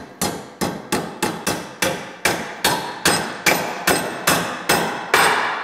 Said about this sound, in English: We're going to whack some nails in with it.